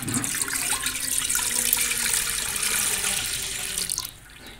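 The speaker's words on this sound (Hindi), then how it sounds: "इसमें हम 1 लीटर दूध डाल देंगे।" One litre of milk pouring from a height into a pot on a stove, a steady continuous splashing gush that runs for several seconds, close and fairly loud, then cuts off abruptly.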